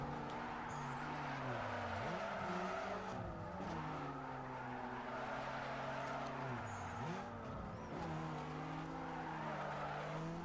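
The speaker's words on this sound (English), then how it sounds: "He's struggling with drifting." Tires squeal and skid in long wavering arcs as a car drifts in Need for Speed Underground 2, with a steady engine roar running continuously beneath the slides.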